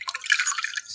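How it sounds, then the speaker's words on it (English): Water running from a tap onto a paper towel, a steady bright splashing trickle with dripping texture held for about a second, close and fairly loud, with no voices. "I'm gonna just wet my paper towel"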